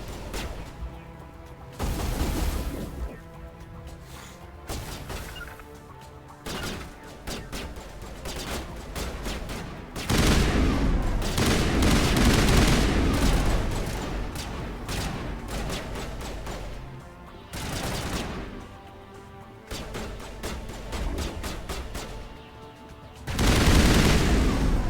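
Assault rifle fire in Mass Effect 1 Legendary Edition: loud, sustained automatic bursts and booming volleys that run almost without pause, with brief dips between strings of shots and heavy impacts layered in.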